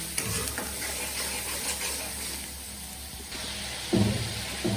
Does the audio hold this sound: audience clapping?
no